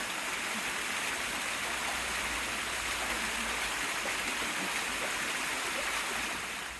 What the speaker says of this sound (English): There's our waterfall.